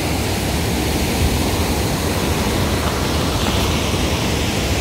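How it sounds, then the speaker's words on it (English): Steady, loud rushing water from one of the falls along Neshaminy Creek, a dense continuous roar with no voices over it. "there's the falls. One of many. All along the Neshaminy Creek."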